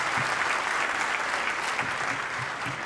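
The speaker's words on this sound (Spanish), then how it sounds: "me parece que merece un aplauso" Audience applause fills a lecture hall, a steady dense clapping that holds evenly from start to end, close and loud, with no voices over it.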